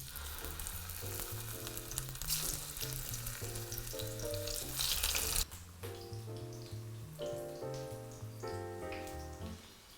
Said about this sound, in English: So you just want to cook those on a low simmer till they brown.